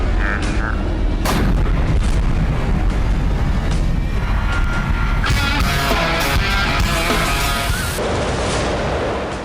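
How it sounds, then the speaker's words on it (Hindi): A Russian glide bomb explodes on the Kharkiv front with a heavy, loud boom and rumbling blast noise that continues throughout, with a sharp crack partway through and no talking. "काउंटडाउन पूरा होते ही एक जोरदार धमाका होता है।"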